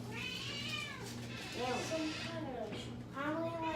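A cat meowing indoors, several drawn-out meows spaced a second or so apart over a low household hum, with a person talking in the background.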